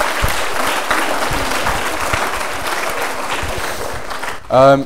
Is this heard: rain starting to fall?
no